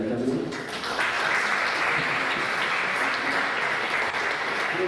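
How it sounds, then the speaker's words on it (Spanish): A large audience at an international festival applauds a guitarist with loud, sustained, dense clapping that fills the whole stretch without a break. "un fuerte aplauso para él también"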